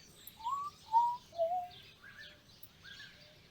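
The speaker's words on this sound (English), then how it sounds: "I keep hearing that one bird's whistle." Bird whistles in the King of the Hill hunting video game: three short rising whistled notes in quick succession, followed by fainter repeated calls against a quiet outdoor background.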